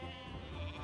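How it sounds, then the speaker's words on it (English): Sheep bleating from the Warcraft 3 real-time strategy game, a single short nasal bleat heard up close over steady low game background sound. "Damn sheep."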